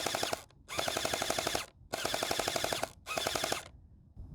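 A Cosmoxtoys Sirius gel blaster firing fully automatic at about 12 rounds per second, in three loud, close bursts of rapid buzzing shots with brief pauses between them.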